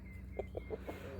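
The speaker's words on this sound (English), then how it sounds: "They can give it a good going over now, the chooks." Backyard chickens pecking over a freshly dug garden bed give a short run of four soft, evenly spaced clucks, faint and close, over a low background hum.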